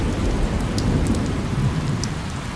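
A thunderstorm with a steady, heavy downpour and deep rumbling thunder rolling beneath it throughout, with no voices.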